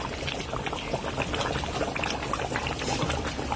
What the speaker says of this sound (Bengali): মটন এখনো কিন্তু ফুটছে